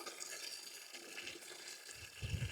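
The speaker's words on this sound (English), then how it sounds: "So I'm making up this bucket of steriliser" Water running into a bucket to make up steriliser solution for soaking demijohns while making elderflower wine, a faint steady hiss and trickle with a low splash near the end.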